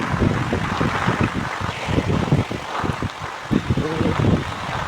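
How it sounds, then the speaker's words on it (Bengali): Strong wind from a Kalbaishakhi storm blows across flooded rice fields in Bangladesh, a steady close roar with buffeting gusts and rumbling wind noise on the microphone throughout, with no talk. "বাতাস আসছে, প্রচুর বাতাস আছে।"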